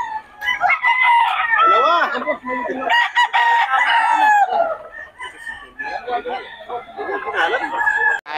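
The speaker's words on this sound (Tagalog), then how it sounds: "Ang daming manok ngayon" Several roosters crow loudly and close together in overlapping, drawn-out calls, with clucking fowl and someone briefly shouting among them.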